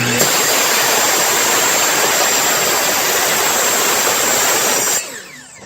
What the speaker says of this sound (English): the resistance of the blade going through the cast iron